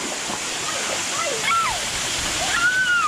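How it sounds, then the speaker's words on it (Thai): A strong waterfall at a water park roars steadily in the background while people talk and call out over it. "น้ำตกแรงๆนู่น"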